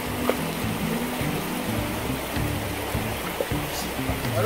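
A river flows steadily with continuous close rushing water, while someone bathing or washing in the cold water is nearby.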